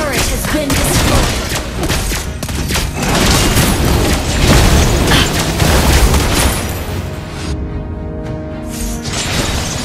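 Tower destruction in the Mobile Legends video game, a dense, loud blast of explosive booms and rapid gunfire-like bursts sustained throughout, briefly thinning near the end.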